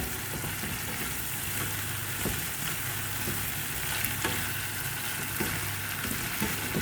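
Shrimp sizzle and fry steadily in a pan with mixed winter vegetables, a continuous crackling hiss with occasional louder pops and stirring scrapes, close and fairly quiet.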